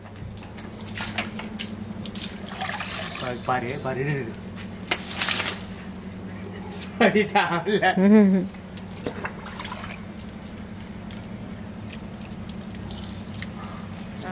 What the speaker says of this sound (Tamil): தண்ணி இன்னைக்கு முடிச்சான தண்ணி மேலே ஊத்தி விடு